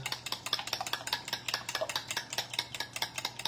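Low carb bread dough ingredients being stirred together in a bowl, a quick, steady run of scraping, clicking strokes close by with no talking.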